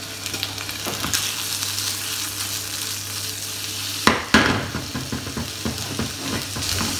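Broad beans tipped into a hot pan with cooked shallot sizzle and fry steadily, with a sharp burst of spitting and stirring clatter partway through, close and fairly loud.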